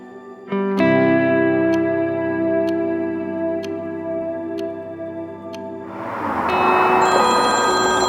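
A phone rings with a tonal, electronic ringtone of repeating chimes, loud and close, before a burst of broadband noise as it is picked up or handled.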